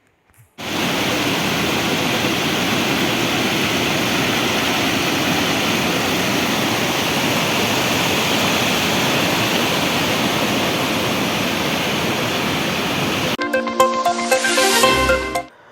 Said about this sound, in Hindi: अलकनंदा किनारे बसे लाम बगड़ पांडुकेश्वर गोविंद घाट में भी अलकनंदा नदी प्रचंड वेग से बह रही है।